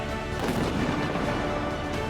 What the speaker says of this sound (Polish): Salut armatni!